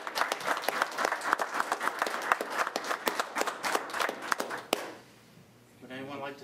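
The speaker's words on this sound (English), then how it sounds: "let's give them a round of applause." An audience at a gathering applauds with dense, crisp clapping for nearly five seconds, then it cuts off abruptly into a quiet pause before a voice begins speaking.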